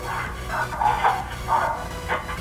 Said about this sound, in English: That's Daisy barking in the background.